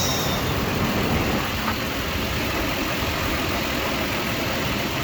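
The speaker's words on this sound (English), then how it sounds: "let's check the idle real quick. Idle smooth." A 1994 Land Cruiser engine idles smoothly, a steady, even rumble holding at constant loudness throughout with no breaks or changes in pace.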